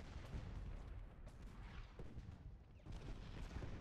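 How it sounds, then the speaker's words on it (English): Artillery fire in the Civil War strategy game Ultimate General: Gettysburg rumbles as a low, continuous barrage of muffled booms, fairly quiet and dense, with no voices over it. "our artillery, I think, is taking direct fire from the enemy"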